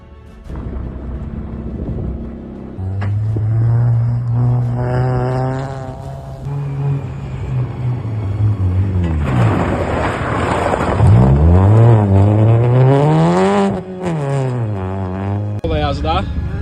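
A car revs and accelerates from inside the cabin during a ride at a car meet, the engine note climbing and falling through gear changes, loud and close, with people talking over it.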